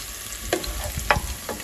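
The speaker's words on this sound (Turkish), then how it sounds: "Şöyle soğanımı koydum." Onions sizzle in a hot pan, a constant bright frying hiss broken by a few sharp clicks and scrapes of stirring, close and clear with no talk.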